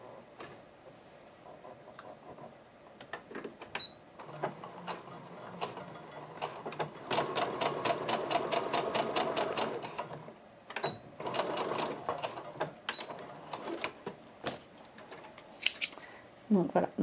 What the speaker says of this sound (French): je couds à ma pièce rouge et ensuite je couds mes deux pièces jaunes côte à côte